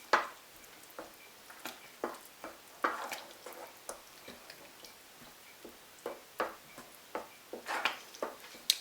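Mince beef stirred into a lasagne sauce in a pan, with soft repeated wet clicks and scrapes in an irregular rhythm, a faint sizzle underneath, fairly quiet and close.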